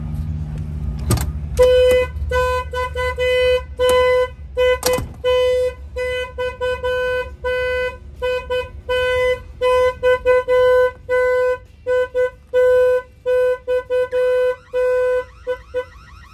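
A loud Volvo VNL 780 truck alarm blares close by in rapid repeating electronic tones, pulsing in short rhythmic bursts after a couple of sharp chirps at the start.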